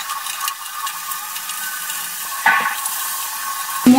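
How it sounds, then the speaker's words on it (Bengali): Water lily stems being stir-fried with spice paste and torn green chilies in a pan, a soft steady sizzle with light scraping and stirring clatter, a couple of louder utensil knocks near the end, no voices. "এবার মশলার সাথে শাপলাগুলোকে ভালো করে কষিয়ে নেব।"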